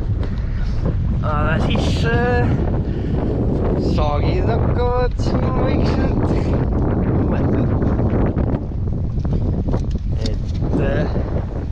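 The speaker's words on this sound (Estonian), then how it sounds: "palju siit tuulega muidugi kuulda on." Strong wind buffets the microphone on a lake during a fishing trip, a constant low roar that runs throughout while someone talks over it.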